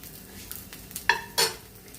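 Spiced idli frying on a griddle, a soft sizzle broken by a few close scraping clinks of a spatula.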